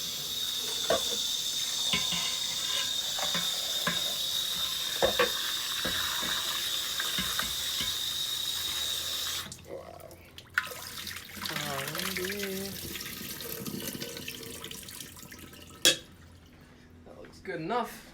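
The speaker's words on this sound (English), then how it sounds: "I like to just rinse the leaves individually under water." Lettuce leaves rinsed one at a time under a running kitchen tap, a steady close hiss of water with handling clicks for about nine seconds, then a quieter stretch of splashes and movement with a sharp knock near the end.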